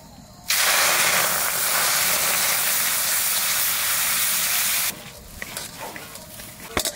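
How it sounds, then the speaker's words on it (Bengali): Semolina and milk boiling in a pan for puli pitha, a loud steady hiss and bubbling that starts abruptly, holds for about four seconds, then cuts to quieter kitchen clatter with a few small knocks. "সুজি ফুটে গেছে"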